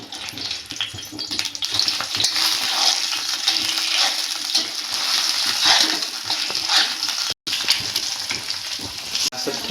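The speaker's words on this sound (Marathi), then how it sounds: "थोडीशी काळी मिरी टाकायची आहे, थोडंसं मीठ आणि थोडंसं लाल तिखट टाकायचं आहे ह्याच्यामध्ये, आणि त्याला व्यवस्थित परतून घ्यायचं आहे।" Egg masala fries in a pan with black pepper, salt and red chili, a loud continuous hiss and crackle under repeated stirring and scraping strokes, with a couple of short breaks and no talk.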